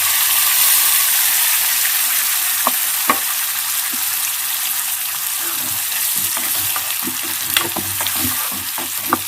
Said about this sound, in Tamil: இந்த சட்னி ஊற்றுறேன்